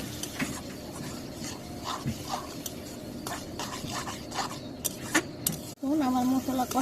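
Spice paste is stirred and fried in a pan: scraping, rubbing strokes and soft sizzling close by, followed by a sudden louder, steady frying hiss near the end, with someone speaking intermittently.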